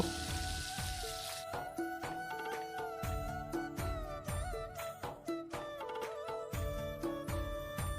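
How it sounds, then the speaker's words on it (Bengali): Potatoes frying crisp in mustard oil with turmeric give a steady, close sizzle that sits under louder background music with rhythmic beats throughout. "আলুটা কিন্তু এইভাবে কড়া করে ভেজে নিতে হবে"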